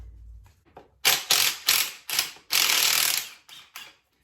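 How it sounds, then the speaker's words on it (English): A ratchet wrench loosens bolts on a Classic Mini 1275 A+ engine during a rebuild. It gives a series of close, loud clicking strokes in uneven bursts, one longer run among them, before falling quiet, with no speech. "We're going to be removing these 2 bolts and then she'll come straight out."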